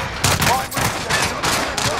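Automatic gunfire in Call of Duty: Modern Warfare, loud close bursts in several rapid volleys over about two seconds, dense and sharp.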